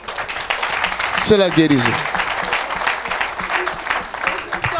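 A church congregation applauding, a dense burst of clapping mixed with cheering voices and a person speaking over it.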